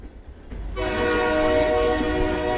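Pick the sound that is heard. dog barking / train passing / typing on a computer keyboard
train passing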